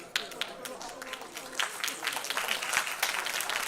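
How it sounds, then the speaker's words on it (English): Applause from an audience at a Rotary club session, honoring club treasurers; dense, steady clapping from many hands fills the clip at moderate loudness, with voices faintly mixed in. "Another round of applause for all the club secretaries."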